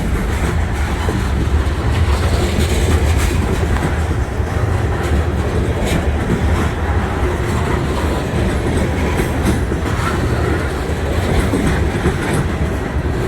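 A freight train of loaded boxcars rolls past at about 15 mph on Illinois track. A loud, continuous rumble of wheels on rail holds up close for the whole stretch, with faint clacks over joints and no talking.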